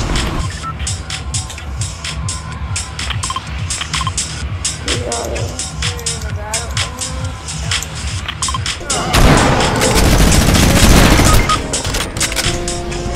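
Gunfire crackles in a shooter video game, repeated sharp shots across the clip with a louder, denser burst near the end, mixed with game sounds.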